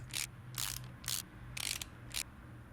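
Bolts being tightened in the video game Car Mechanic Simulator 2018, heard as four or five short ratcheting bursts in a quick, evenly spaced series over a low background hum.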